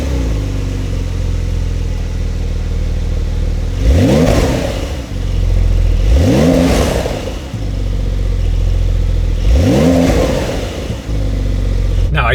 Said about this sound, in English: let's start the car, see what the sound's like